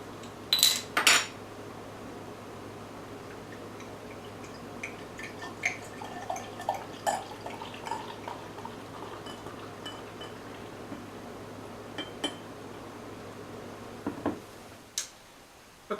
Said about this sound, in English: let's go ahead and crack it open and see what it's like out of the bottle